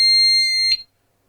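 A Pyronix Enforcer alarm keypad gives one long, loud, piercing electronic bleep as the alarm is set, heard close up and cutting off sharply into silence.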